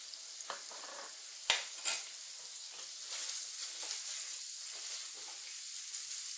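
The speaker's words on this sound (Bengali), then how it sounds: "এটা ভাজতে একটু টাইম লাগবে," Pieces of elephant-foot yam fry with turmeric and salt in a pan, giving a constant soft sizzle broken by stirring and a sharp metallic clank near the start.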